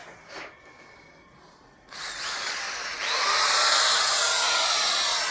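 A DongCheng DJZ10-10 electric drill whirs steadily at close range, its pitch rising as it speeds up after a brief quieter low-RPM start.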